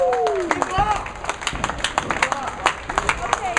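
Scattered clapping and cheering from a small crowd at a scratch JBT bowling tournament at Kingpins PDX, greeting the winner with irregular claps and whoops while voices chatter underneath.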